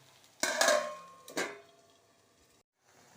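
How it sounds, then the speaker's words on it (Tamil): A metal plate set down over a pan as a lid while cooking adai: two sharp clattering knocks, the first louder and ringing briefly, the second shorter, close by, followed by quiet. "இப்போ இதை தட்டை போட்டு மூடி வச்சிடலாம்"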